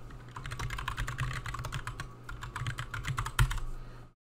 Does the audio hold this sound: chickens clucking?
no